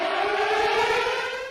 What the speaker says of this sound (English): Ukraine's President Volodymyr Zelensky, playing an air raid siren on his phone, told his people not to fear the sound, but to get used to it.